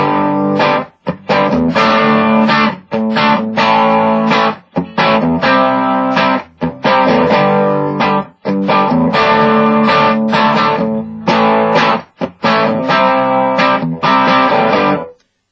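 Electric guitar with a DiMarzio Super Distortion bridge pickup played through a Bugera G20 tube amp head with overdrive on and reverb off, loud distorted chords in repeated phrases broken by short silent gaps.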